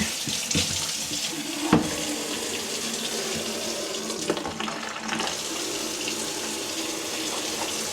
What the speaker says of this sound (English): Got my water going back here.